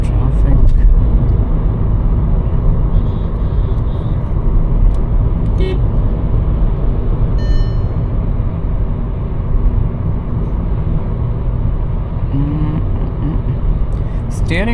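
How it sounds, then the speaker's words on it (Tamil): Dense road traffic surrounds a Skoda Slavia on the move, with a constant loud rumble of engines and road noise, faint horn toots, and a person speaking over it throughout. "I'm not sure why this much traffic."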